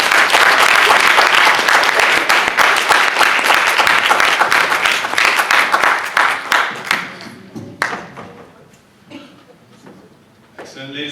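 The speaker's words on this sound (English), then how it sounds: "Please give him a round of applause." Loud, dense applause from an audience at a London School of Economics talk welcomes a guest speaker, then thins into scattered individual claps and dies away, with a few voices emerging near the end.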